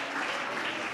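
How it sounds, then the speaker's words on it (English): Audience applause at a vocational excellence conference, a dense, steady wash of many hands clapping, fairly close and sustained throughout the brief moment. "a big applause"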